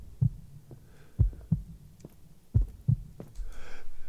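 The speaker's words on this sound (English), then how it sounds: "where you started to hear the heartbeat" A heartbeat effect in a song thumps as deep, muffled double pulses at a slow, steady rhythm, standing nearly alone over a faint hum that swells toward the end.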